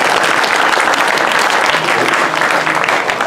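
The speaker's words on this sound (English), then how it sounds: "So give them a big round of applause" Sustained applause from an audience at a Sri Lakshmi Narayan Kalyanam community event, a dense, even wash of clapping that stays loud for the whole stretch with faint crowd murmur beneath.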